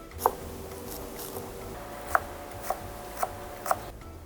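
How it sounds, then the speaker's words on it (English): A knife chops through spring onions on a board, several sharp taps spaced irregularly, quiet and close with a faint hum behind. "So I'm just going to cut it a bit smaller so it's easier in the blender."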